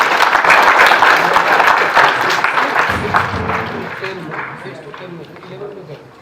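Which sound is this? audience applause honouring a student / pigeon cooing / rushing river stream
audience applause honouring a student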